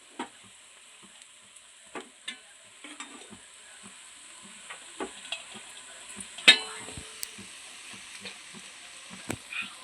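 Cooked rice is stirred in a hot pan with scattered scraping and tapping strokes of a spoon against the metal, over a faint sizzle, with no one talking.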